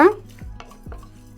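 Chana dal, urad dal and fenugreek roasting dry in a kadai, a couple of scraping stirs with a spoon against the pan and faint rattling of the lentils, close and brief.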